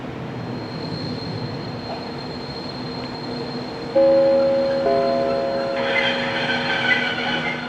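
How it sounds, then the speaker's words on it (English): A DB Class 110 electric locomotive pulls a train for Fulda into Gemünden station, a steady rolling rumble that grows louder at the midpoint, with tonal whines and wheel squeal rising as it draws near. "Arriving at Gemünden is 110442 on the 16th of June 2012 with a train for Fulda."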